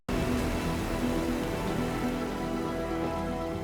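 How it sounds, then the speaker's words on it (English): Monsoon rain pours steadily and evenly onto surfaces, a dense, continuous wash of drops at moderate loudness with no pauses from start to finish. "The monsoon is here."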